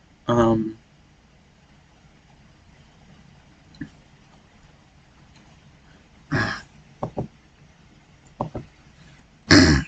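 Several short coughs and throat-clearing bursts from a single nearby person, scattered in separate clusters across a mostly quiet stretch.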